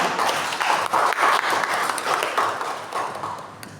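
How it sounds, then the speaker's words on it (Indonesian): Audience applause for the jury panel at a student group project defense session, a steady wash of many hands clapping at moderate distance that continues throughout without anyone speaking. "berikan tepuk tangan yang meriah kepada Dewan Juri kita"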